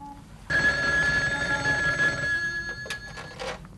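A telephone bell rings indoors in an Egyptian family home, a loud continuous electric ring starting sharply and sustained for about three seconds, with faint background noise and no talk.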